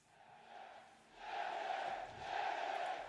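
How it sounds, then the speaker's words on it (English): Stadium crowd murmuring in a football video game: a faint, distant swell of many voices that rises in two broad waves, with no clear individual words. "It's just crowd murmurings and then whatever your opponent is."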